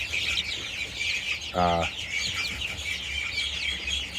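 A chicken gives a short, clear cluck amid continuous chirping of bantam chicks and ducklings and background bird chatter, with faint low rumbling underneath.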